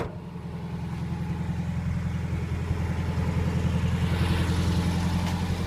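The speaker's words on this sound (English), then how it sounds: "once it's warmed up, it idles fine" A warmed-up 1957 Volkswagen Beetle engine idles close by, a steady, even low rumble with a regular pulsing beat and no talk.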